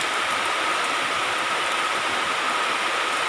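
Steady rain falls outdoors at a bonsai exhibition, a dense, even hiss of drops that holds unchanged and fairly loud throughout, with no voices.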